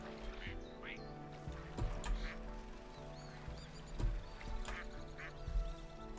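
Several quiet duck quacks sound in the farming game Hundred Days, repeated in short bursts over soft background music and light ambience.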